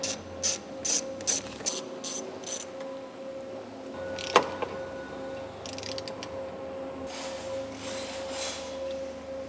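Ratchet removing fender bolts on a '69-'89 Porsche 911: short crisp clicking bursts close up, a sharp metallic clank midway, then softer intermittent ratcheting strokes.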